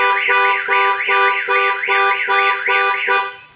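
A car alarm set off during manual sensitivity testing of its sensor by striking the windows, blaring a loud, close, rapidly warbling siren that repeats in even cycles before cutting off at the end; no one speaks.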